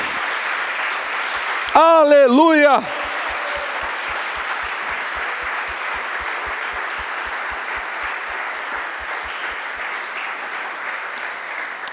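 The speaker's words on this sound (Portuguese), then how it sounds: "vamos dar uma pausa para aplaudir ao Senhor" A church congregation applauds with a broad, steady wash of clapping, and a raised voice shouts briefly over it near the start.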